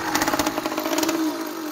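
A small engine with a 49mm iron sleeve, converted to run on ethanol, revs close by with a raspy, throaty, rapid buzzing roar that pulses briefly.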